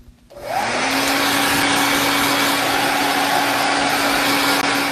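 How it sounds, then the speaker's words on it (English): A blow dryer switches on and runs with a steady, loud whir and hum that holds without a break. "I'm actually going to go ahead and kick on the blow dryer"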